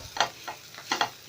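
Mashed potato and masala are stirred together in a pan over a low flame, a few quick, close scraping strokes of a spoon against the metal over a faint sizzle.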